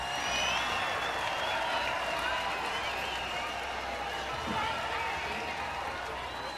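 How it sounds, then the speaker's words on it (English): A large crowd of working men and women mobbing the streets of London cheering and shouting for their hero, a dense steady roar of many voices with no single voice standing out. "The streets were mobbed with the working men and women of London, cheering and shouting for their hero."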